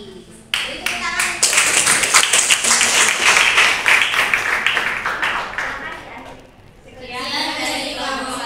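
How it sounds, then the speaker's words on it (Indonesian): A room full of people at UIN KHAS Jember claps in a sustained burst of applause that fades out, followed by a voice speaking. "Beri tepuk tangan."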